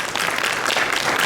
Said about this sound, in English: yes, please applaud her